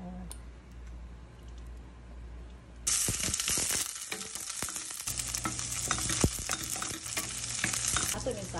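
Marinated pork adobo with vinegar, fish sauce and Sprite fries in a pan, starting quiet then erupting into loud, constant sizzling as it is stirred, with scraping and clicking of a utensil against the pan throughout.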